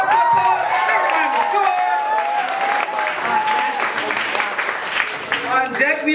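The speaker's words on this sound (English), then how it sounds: "Clap it up for the poet." An audience at a poetry slam applauds and cheers for a poet, a loud sustained crowd roar with clapping, and voices calling out over it.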